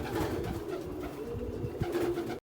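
Pigeons coo nearby in low, throaty, repeated calls, steady and fairly soft, without any talking.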